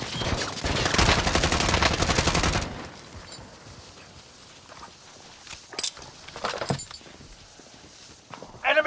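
Gunfire in the video game Call of Duty: Modern Warfare, a dense, loud burst of rapid automatic fire for a few seconds, followed by scattered sharper single shots and impacts.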